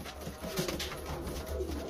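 Pigeons of a dusty-headed, small-beaked breed coo softly in a loft, a few low repeated coos close by with no talking.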